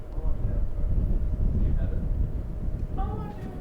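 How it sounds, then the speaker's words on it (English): Strong wind gusts buffet the microphone at an outdoor college baseball game, a low rumbling roar rising and falling under a commentator's voice. "And get wind gusts up to 37 miles an hour today."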